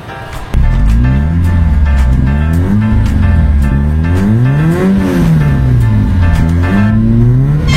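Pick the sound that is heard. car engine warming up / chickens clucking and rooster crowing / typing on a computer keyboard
car engine warming up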